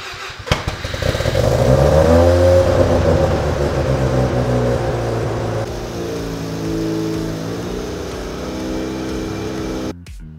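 A Mazda RX-7 FC rotary engine, pulled from fourteen years in a barn and showing low compression, idles loudly up close with a rough, buzzing rumble and a few revs before it cuts off abruptly.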